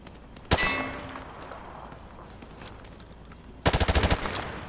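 Gunfire in Modern Warfare 2 Remastered punching through light cover: one sharp shot with a ringing metallic clang and a long decay, then after a pause a fast close burst of rapid shots.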